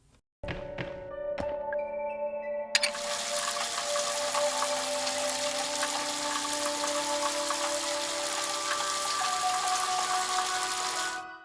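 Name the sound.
shower running in video game Crow Country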